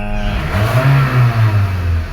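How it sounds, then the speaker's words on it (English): A 2005 Toyota Caldina with a failing fuel pump runs nearby, its engine droning loudly with a rising and falling whine and uneven pulsing hum, heard close up with no talking. "the pump is beginning to make some very weird noises"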